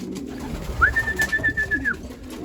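A racing pigeon coos once in a long, level call during breeding season, close by, with faint rustling and soft background noise around it.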